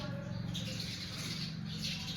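House sparrows chirp faintly at home, brief soft tweets over a low steady background hum, with no one talking.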